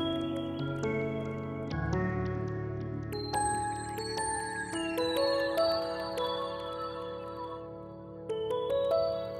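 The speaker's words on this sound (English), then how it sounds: "It's kind of really to demonstrate the pluck, really. But I've chose this sound because it's a bit weird and a bit unusual." Odd plucked synth patch layered over piano in Mainstage, playing a bright melodic phrase of short, ringing tinkly notes above sustained piano chords, with no voices.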